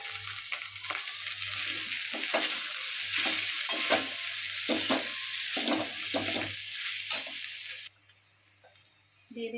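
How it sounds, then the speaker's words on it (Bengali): Potatoes tipped into hot oil in a pan for a singara filling, sizzling loudly with repeated stirring scrapes and clatter for several seconds before the frying noise drops away abruptly. "এবার আলুটা ঢেলে দিচ্ছি।"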